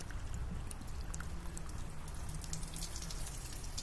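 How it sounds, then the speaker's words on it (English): Water is poured into gravel-filled cups and drains through, producing a continuous pattering trickle with scattered drips, steady and fairly close. "we are simply going to pour water into the cups and see what happens"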